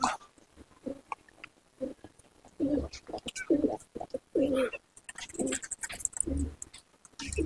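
Pigeons in a Punjabi Malwai pigeon loft give bursts of soft throaty cooing, close by and moderately loud, with rustling and brief pauses between calls and no clear talk.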